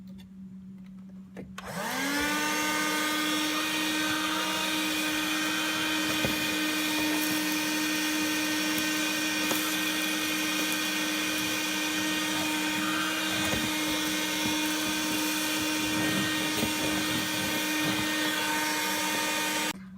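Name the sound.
InnoLife 4-in-1 car vacuum with extended nozzle cleaning car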